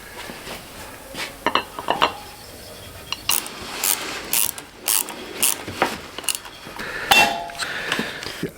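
Rear wheel being fitted into a 1982 Honda XL 250R motorcycle under restoration, with irregular metallic clicks, ratcheting clatter and clanks of parts and tools, close and fairly loud, without talking.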